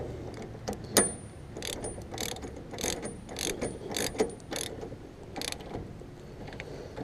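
A wrench ratcheting as a nylon locking nut is tightened on a lower shock mount, giving a series of close, sharp clicking bursts in uneven rhythm, loud and without talk.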